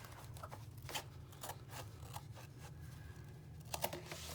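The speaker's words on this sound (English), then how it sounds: "So I'm gonna cut this right down the middle" Quiet, intermittent snips and rustles of scissors cutting paper, with short crisp bursts spaced irregularly over a low steady hum.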